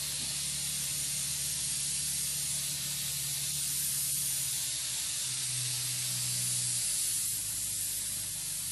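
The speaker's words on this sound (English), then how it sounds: "Air is on. Start moving the airbrush and then paint." An airbrush sprays paint with a steady, continuous close hiss of compressed air throughout, unbroken and even in loudness, with a faint low hum beneath.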